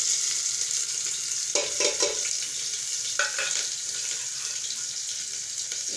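Khatai, soaked in asafoetida water, fries in spices in a pan with a steady soft sizzle, broken by a few brief stirring and clattering bursts near the middle.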